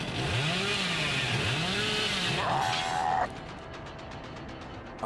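A chainsaw runs in the video game Dead by Daylight, loud and wavering with repeated revs rising and falling, then a higher steady whine that cuts off abruptly into quieter rhythmic pulses.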